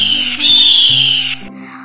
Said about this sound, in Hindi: पक्षियों के राजा बांस की आवाज सुनवाऊंगा।